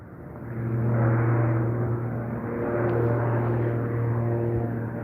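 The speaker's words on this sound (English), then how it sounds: "another aircraft taking off" An aircraft taking off from a nearby airfield gives a loud, steady engine drone with a strong low hum, holding throughout without speech.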